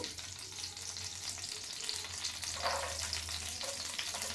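Chopped ginger and garlic fry in oil at the start of a cauliflower curry meant for chapati, producing a continuous, close, fairly loud crackling sizzle with no talk over it.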